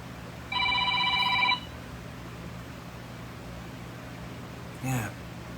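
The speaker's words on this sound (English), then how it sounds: "the phone ain't rang all day till now." A telephone rings once in a single loud electronic burst of about a second, followed by a quiet room hum and a brief faint sound near the end.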